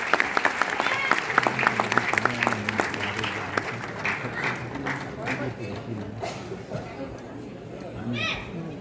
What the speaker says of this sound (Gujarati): બધા તાળીઓના ગડગડાટથી વધાઈ લો